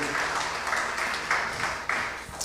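A church congregation at a worship service held in a garage applauds in a dense, continuous wash of clapping with a few sharper claps standing out, heard at moderate distance.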